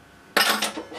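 A cooking pan (bandi) is set down on a lit stove while tomato-based millennium chicken is being made: a single sudden metallic clank that rings briefly, followed by a smaller knock.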